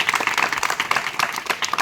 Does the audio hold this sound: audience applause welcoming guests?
yes